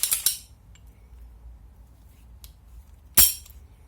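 A Beretta Neos pistol gives sharp metallic clicks as its action is worked during a function test: a quick pair of snaps at the start, a faint tick in the middle and one crisp, louder click near the end, close and isolated.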